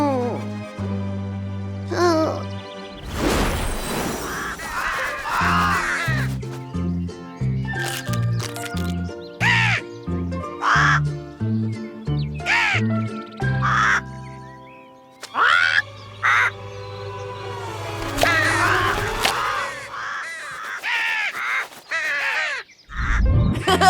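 Cartoon crows caw in a string of short, loud, separate calls, broken up by squishes, cracks and bouncy comic sound effects.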